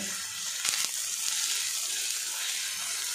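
Thinly sliced onions sizzle and crackle softly in oil in a pan, a steady hiss with a couple of brief stirring clatters near the start.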